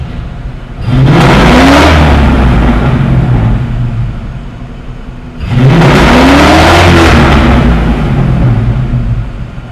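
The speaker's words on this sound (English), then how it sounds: "That has let the car free rev fine." A Ford Mustang Foxbody V8 with gummed-up fuel injectors is revved twice at wide open throttle, each loud, close blip rising in pitch and then falling back to a rough idle.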